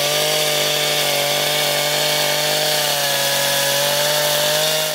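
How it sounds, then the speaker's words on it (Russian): A chainsaw carves into a wooden board during sculpture work in the Khibiny mountains, its engine holding a loud, steady buzzing drone for the whole stretch with only slight shifts in pitch as the blade bites the wood. "Пила в руках мастера что-то рисует на деревянной доске"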